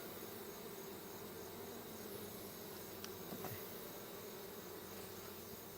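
Honey bees buzz around an open hive in a dense, continuous drone that holds steady throughout, close and loud, with no voices.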